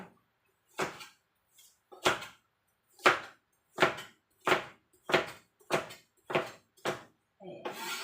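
A knife cuts through a hard, crunchy carrot in a home kitchen: about ten distinct, evenly spaced crisp chops against a board, close and clear, with a brief rustle at the end.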